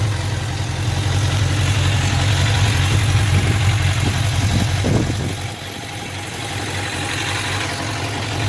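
A 1994 Suzuki Katana 600 (GSX600FR) motorcycle engine idles around 1,300 to 1,500 rpm with a steady low rumble, loud and close, briefly settling lower near the end.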